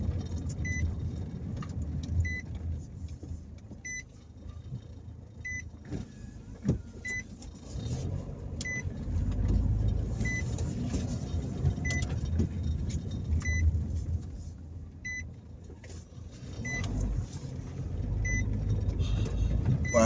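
A car rolls slowly through a town in Jamaica in a steady low rumble, with faint clinks and small rattles inside the cabin. The sound is moderate and continuous, with no voices.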